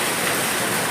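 Heavy rain pours down over a road, a dense, steady hiss at full strength with no break and no voices.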